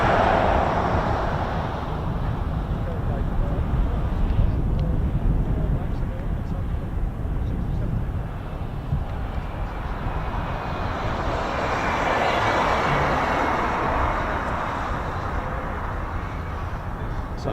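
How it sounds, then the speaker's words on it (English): A KC-135 tanker aircraft turns onto final approach at RAF Mildenhall, its jet engines a broad, distant roar that swells and fades, while a person talks over it. "Just waiting for the KC-135 now to turn on finals"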